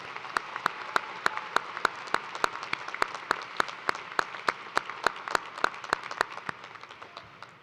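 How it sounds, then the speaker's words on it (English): Applause at a University of Toledo fall commencement ceremony, a sparse spread of clapping across a large hall with several crisp, close individual claps ringing out over the softer crowd, slowly fading. "Let's give a round of applause for everyone who helped make this celebration one to remember"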